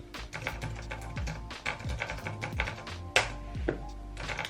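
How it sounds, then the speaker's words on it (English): Rapid, irregular keyboard typing that the owner calls annoyingly noisy, with dense clicks and a few sharper taps running throughout, close and fairly steady, with no talking. "My keyboard is actually making a very annoying noise."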